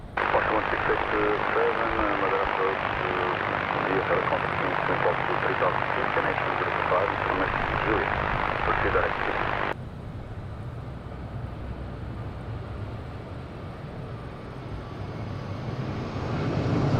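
A British Airways airliner taxis at windy Madeira Island Airport, its steady engine roar loud for about ten seconds before dropping to a quieter, distant rumble under gusty wind noise, with people talking.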